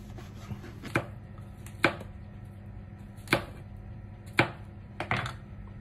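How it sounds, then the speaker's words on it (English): A knife cuts through bread on a board, making five sharp crunchy chops spaced about a second apart, close and clear against a quiet kitchen background. "So cut the bread in slices like 2 centimeters wide."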